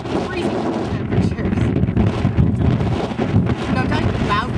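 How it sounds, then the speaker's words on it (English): Strong gusty wind roaring and buffeting the microphone in cold Iceland, loud and close, with people talking underneath. "It's very windy."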